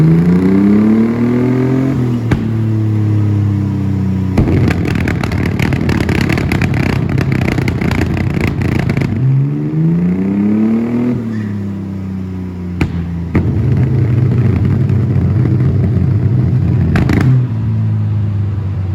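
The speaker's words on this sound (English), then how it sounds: "It sounds like a blowtorch in this thing's exhaust." A tuned Mercedes W203 engine revs hard and loud on a dyno, rising and falling repeatedly, with a harsh roaring, crackling, flame-spitting exhaust in between.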